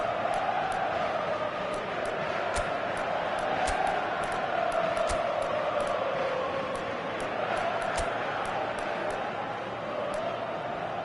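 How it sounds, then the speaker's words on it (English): A football video game stadium crowd roars steadily throughout, a dense, continuous wash of cheering with scattered sharp claps and thuds over it. "the crowd are reacting to that now."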